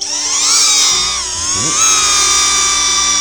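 A DJI Neo mini drone flies nearby, its propellers producing a loud, steady high-pitched whine whose pitch dips and rises as it manoeuvres in a forest, with no talk over it.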